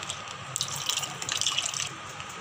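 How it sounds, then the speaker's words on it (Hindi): Full cream milk, about a litre and a half, pours into a ghee-greased pan with a close, continuous splashing gurgle that rises and falls over a couple of seconds. "अब हम इसमें दूध डालेंगे मैंने यहाँ पे डेढ़ लीटर फुल क्रीम दूध लिया है"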